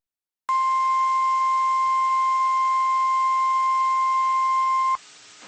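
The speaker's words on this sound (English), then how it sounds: "This is a test of the NOAA Weather Radio warning alarm device for WXL34" A NOAA Weather Radio warning alarm for WXL34 sounds as one loud, steady electronic tone held for about four and a half seconds before cutting off abruptly.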